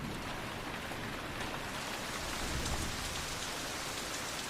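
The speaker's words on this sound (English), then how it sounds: "While rains hit the islands of the marine park" Steady tropical rain falls over the islands of a Malaysian marine park, a dense even hiss close by that swells slightly midway, with no voices.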